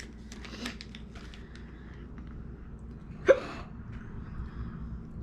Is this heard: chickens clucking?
no